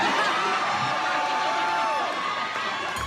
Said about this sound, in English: And the crowd just goes crazy.